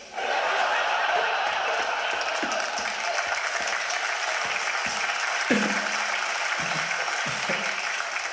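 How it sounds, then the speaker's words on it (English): Audience clapping fills a stand-up comedy show, a steady, loud wash of applause that runs throughout with a few sharper individual claps and thumps standing out near the end. "It's the first time anywhere in the world people are clapping for corruption."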